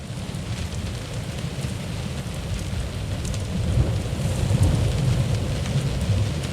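In the video game Close To The Sun, a stormy sea is heard as steady heavy rain over a low rolling rumble of thunder, which grows somewhat louder and deeper toward the end.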